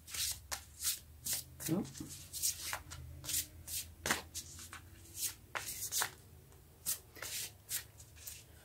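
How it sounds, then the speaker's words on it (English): Tarot cards shuffled by hand in repeated quick riffling bursts, close and crisp, with brief speech in between. "When the cards don't shuffle smoothly for me, I know it's time to keep shuffling"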